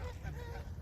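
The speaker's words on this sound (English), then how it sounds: "We got geese over here just hanging about, doing their thing." Geese honk at close range in an open-space park, a short burst of overlapping nasal calls with no talking.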